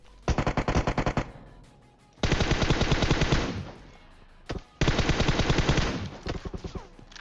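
Bursts of rapid UMP submachine gunfire in PUBG Mobile, three long automatic strings with short gaps between them, loud and close.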